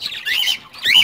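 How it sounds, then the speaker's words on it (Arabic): Frizzle birds in an aviary let out a quick burst of sharp, high squawks and chirps, close by and loud, overlapping in short rapid calls. "هاد الطيور الفريزي ها هي"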